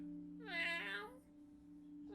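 A person imitates a cat, giving a single drawn-out, nasal meow during a Dungeons and Dragons tabletop session, heard close and fairly quiet over a steady low electrical hum.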